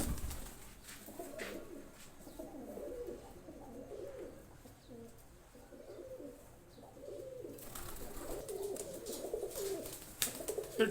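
Pigeons offered for sale in Gujranwala, Pakistan coo softly and repeatedly at close range in a quiet setting, with some faint chirps at the start and louder coos near the end.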